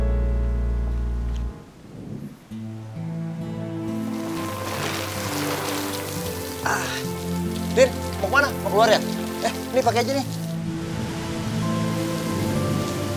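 Steady rain patters in the background while people talk over it, with music-like tones layered underneath.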